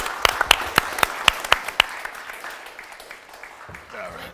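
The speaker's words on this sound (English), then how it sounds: "Maybe a round of applause." An audience at a live webcast show claps in a burst of sharp, loud applause that quickly tapers off into scattered claps and crowd murmur, with a voice speaking near the end.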